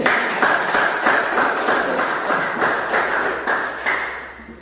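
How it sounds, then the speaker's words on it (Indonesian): A classroom of students claps together in a dense, steady burst of applause lasting several seconds, loud and close, with rhythmic surges before tapering off at the end. "Mari kita beri aplaus dulu"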